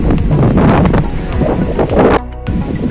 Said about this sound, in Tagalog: Medyo malakas ang uh, hangin.